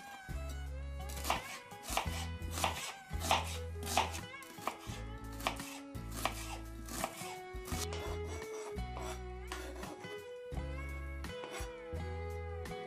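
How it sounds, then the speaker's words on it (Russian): Knife finely chopping onion on a board for a beetroot salad, a steady run of sharp, close chopping taps in quick bursts over soft background music, with no talk. "Лук нарезаю мелко."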